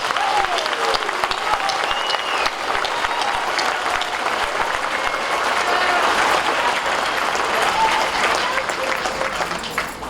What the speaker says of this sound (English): give a big round of applause for these amazing students